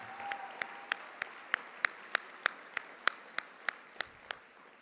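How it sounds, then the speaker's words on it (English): A single person's sharp, evenly spaced claps, about fifteen in a steady beat, ring out over a quiet room at an awards luncheon. "Let's give Superintendent Mike Matsuda one more huge round of applause."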